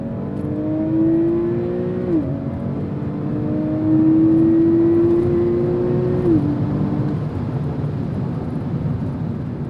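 A Porsche 911 accelerates hard in Sport Plus mode, its engine note climbing steadily and dropping sharply at each of two upshifts, loud and close throughout with no talking.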